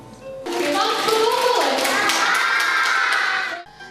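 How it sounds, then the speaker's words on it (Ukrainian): A room of young children clapping and shouting excitedly after a bandura demonstration, bursting in loudly after a quiet start and cutting off near the end. "Судячи з бурхливих оплесків маленьких глядачів, бандура прийшлася їм до вподоби"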